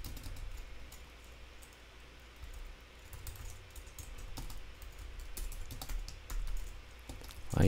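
Light clicking keystrokes on a computer keyboard as a button name is typed, in quick irregular bursts that are faint and close, with no talking over them.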